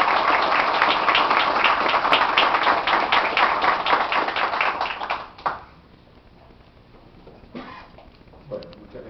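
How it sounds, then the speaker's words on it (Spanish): An audience in Mar del Plata claps to welcome a visiting deputy, with close, crisp, rapid hand claps for about five seconds that then stop abruptly, leaving a quiet room with a few faint knocks. "Les pido una bienvenida, un aplauso para el diputado Acep que nos visita en Mar del Plata."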